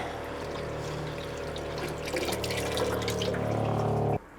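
Water runs steadily from a tap as a water tank drains during de-winterizing, a continuous splashing flow that grows slightly stronger before cutting off abruptly near the end.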